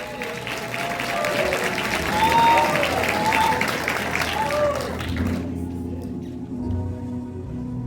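Gathered congregation applauds in honor of retired pastors, a lively clapping mixed with voices and cheering that continues for several seconds before fading, leaving a quieter room with lingering murmurs.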